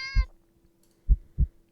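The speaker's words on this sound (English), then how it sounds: "The cat meows at you again" A crouched cat gives deep, low meows: a brief tonal call followed by a few short, heavy, low-pitched bursts spaced apart in near silence.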